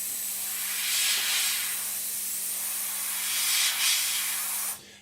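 An airbrush spraying paint on a Revell 1/72 Transall scale model, a soft steady hiss in short bursts that swell and ease, with a faint hum beneath, then cutting off abruptly.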